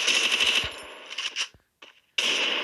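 Rapid bursts of close-range gunfire from a weapon in a training match of an online shooter game, loud and near, cutting off into brief gaps before another burst.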